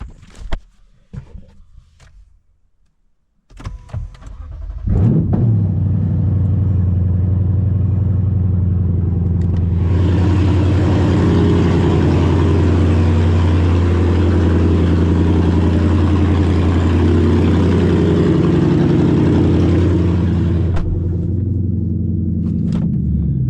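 Lexus IS500 V8 engine with no exhaust fitted, cats only, cranks and fires up, settling into a loud, raw, steady idle with a brief blip partway through, heard close in a garage.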